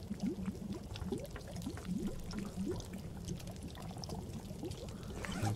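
A pot of water boils over a fire in the survival game The Long Dark, giving a steady, soft, low bubbling and gurgling that keeps a continuous rhythm throughout, with no voices.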